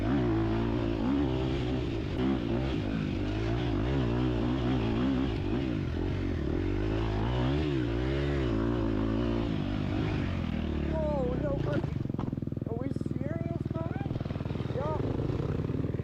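A 250cc dirt bike engine braking downhill during a national enduro race, its steady revving drone loud and close throughout and settling into a lower, rougher note near the end.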